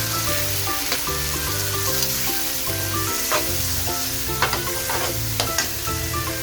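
Softened beef for beef kangkong hits a hot pan and sizzles steadily while a utensil stirs and scrapes, close and loud, with soft background music and no speech.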